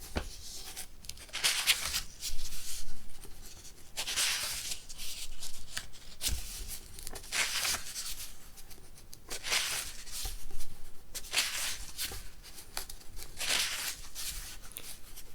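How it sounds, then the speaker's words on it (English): Paper pages being turned and handled up close, soft rustling sweeps repeating every few seconds over a faint crinkly background. "Page turning is also one of my favourite triggers. I like the paper sounds."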